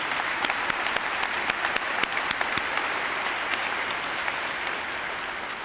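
At a medical school White Coat Ceremony, a large audience applauds the students and their families with even, continuous clapping that fills a big hall, steady and moderately distant with a few sharper individual claps standing out.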